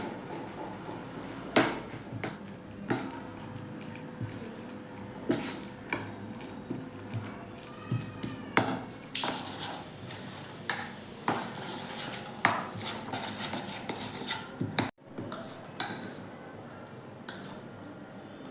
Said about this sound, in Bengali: এটাকে ভালো করে মাখতে হবে